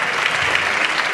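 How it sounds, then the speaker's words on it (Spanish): An audience applauds at a sports gala, a brief burst of dense clapping from a large crowd. "Por favor, un fuerte aplauso para ellos"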